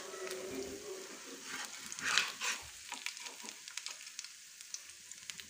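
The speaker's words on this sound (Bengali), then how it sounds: "মাছটা ভাজা হতে একটু টাইম লাগে" Soft gule fish fries in plenty of oil over low gas, a quiet bubbling sizzle with scattered sharp crackles and pops, and a brief louder burst of spattering.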